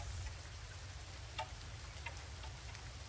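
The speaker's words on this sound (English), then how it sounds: "It is raining today." Steady soft rain patters across a morning scene in the farming game Coral Island, a faint continuous hiss with a few brighter drip ticks scattered through it, no voices.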